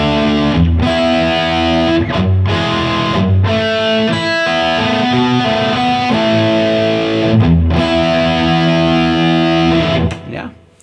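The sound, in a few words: distorted electric guitar chordal riff section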